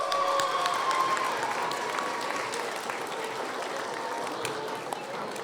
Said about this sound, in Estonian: Aplaus Anetele.